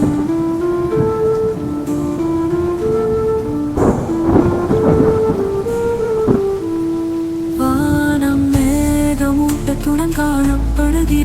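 Steady rain with rolling thunder rumbles mixed beneath a melodic song, the storm wash continuous throughout.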